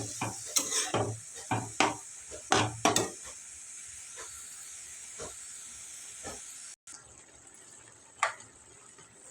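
Moth bean dal with a pinch of salt being sautéed in a pan, steady hissing sizzle throughout with a few sharp clinks of a spoon stirring near the start, close and moderate.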